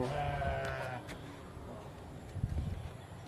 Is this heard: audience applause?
no